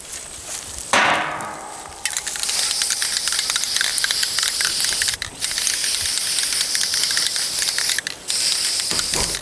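Aerosol spray is misted over model railroad forest trees, a loud, steady close-up hiss that starts after a brief rising whoosh and runs on with two short pauses.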